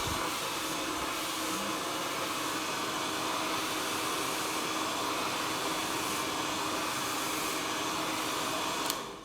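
A handheld hair dryer blows steadily while smoothing the ends and fringe during a home blow-dry, a loud, even whooshing hiss that runs almost unbroken before cutting off at the end.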